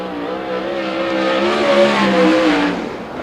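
A 410 sprint car on a Sherman chassis with a Pro Flyer engine howls around an oval during a qualifying lap, its engine note rising and swelling as it passes, loud and fairly close.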